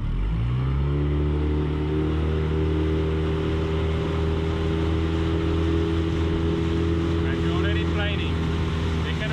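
A small dinghy outboard motor runs at high speed with the dinghy planing, a steady whining drone, and water rushes and splashes around it.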